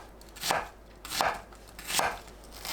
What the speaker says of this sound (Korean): 양파를 가로 세로 1cm 크기로 썰어줍니다.